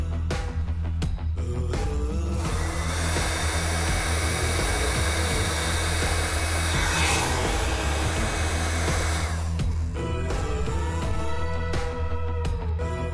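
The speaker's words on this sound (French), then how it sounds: "je chauffe la gaine thermorétractable avec le pistolet à air chaud" Heat gun blowing a steady broadband roar while shrinking heat-shrink tubing over motorcycle wiring during a café racer build, running loud and close for most of the stretch, with a low mechanical hum underneath and quieter clicks at start and end.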